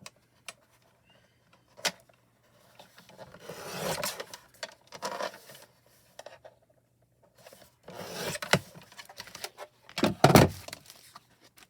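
A blade cuts a white foam sheet to size, a series of close, rasping rubbing strokes separated by quiet pauses, with a few sharp taps between them and no talking.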